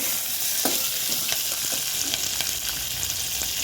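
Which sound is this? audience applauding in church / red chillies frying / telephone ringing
red chillies frying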